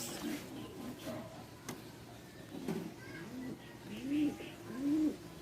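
Soft repeated cooing of pigeons, several low throaty calls rising and falling, close by over a faint background hum and muffled voices.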